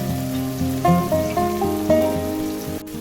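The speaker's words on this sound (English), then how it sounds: "Sauté until aromatic." Chopped onion and minced garlic sauté in olive oil in a pan, giving a steady, rain-like sizzle beneath louder background music.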